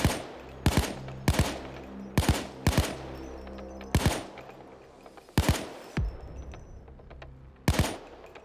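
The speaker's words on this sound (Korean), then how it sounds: "이렇게 총 오지게 쏘고 있는데" Heavy gunfire in the VR game Payday 2 (Death Sentence difficulty, stealth run), sharp loud shots in irregular bursts and single cracks, each trailing a brief ringing decay, with no talk.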